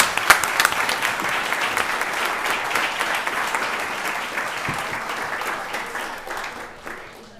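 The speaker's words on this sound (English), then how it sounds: "Let's give them another round of applause." Attendees at a county board of commissioners meeting give a round of applause, loud close-up claps that begin sharply with some distinct near hands, then thin gradually and fade out, with faint voices mixed in.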